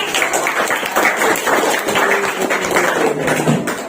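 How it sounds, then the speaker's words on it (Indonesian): Steady applause from a class of students in an Indonesian teacher-training classroom, a continuous even patter of many hands throughout, with faint voices underneath. "Oke, tepuk tangan dulu."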